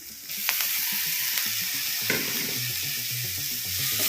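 Sago and poha upma frying in a pan, a steady close sizzle with a few light clinks of a spoon stirring, no voices.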